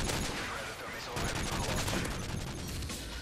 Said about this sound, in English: Wow, OP gun right there.